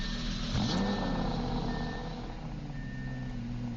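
A 2023 Audi R8 V10 Coupe GT in the Roblox game Greenville: a steady engine drone with a sustained tonal whine and a brief swell early on, no talk.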